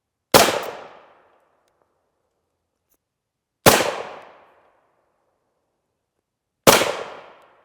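Three sharp, loud gunshots from 113 grain reduced range ammunition fired at AR500 steel Level III+ armor, each crack decaying quickly into a short ringing tail, spaced roughly three seconds apart with silence between them.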